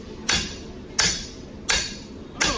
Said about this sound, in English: we can hit right here and that'll bring that cap up